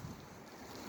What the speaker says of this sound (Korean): 이곳 잠실 한강공원에는 바람이 불고 있습니다